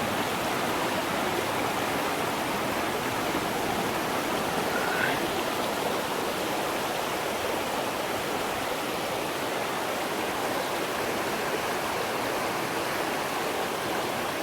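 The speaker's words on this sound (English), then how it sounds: "I think that's the main waterfall." Steady rushing roar of the waterfall on Gragg Prong in Pisgah National Forest, North Carolina, a dense, constant wash of falling water heard close and alone.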